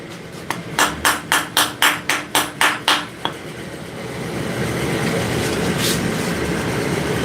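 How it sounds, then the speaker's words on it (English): A wooden mallet strikes an anvil during forging: about ten sharp, evenly spaced knocks ring out up close, then stop, leaving a rising steady background hum. "But you can use a wooden mallet"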